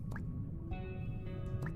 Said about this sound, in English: I didn't realize the bubbles actually made a sound when they went down.